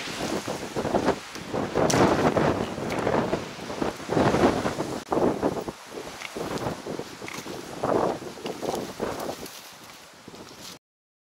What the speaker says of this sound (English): The wind's howling a gale.